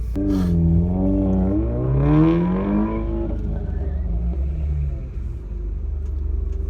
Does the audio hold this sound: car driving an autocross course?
yes